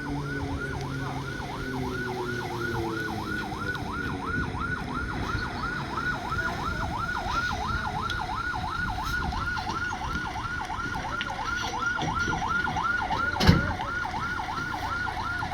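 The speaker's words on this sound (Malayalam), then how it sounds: "ഫയർ എഞ്ചിൻ വന്നു മക്കളെ ഫയർ എഞ്ചിൻ വന്നു" A fire engine siren wails in a fast, steady up-and-down cycle, loud and sustained, as it arrives at a burning truck, with a low rumble of traffic and engines beneath and one brief sharp knock near the end.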